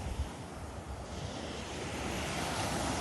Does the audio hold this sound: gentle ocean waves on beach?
yes